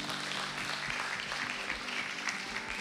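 A church congregation applauding and cheering during a worship service, steady crowd clapping with scattered voices, fairly distant and uniform throughout without a break.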